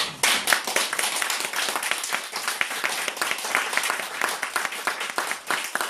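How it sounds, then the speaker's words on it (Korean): An audience at a company anniversary thanksgiving service claps loudly and continuously, a dense burst of many hands that starts abruptly and stays full and even to the end. "박수 한번 쳐주세요."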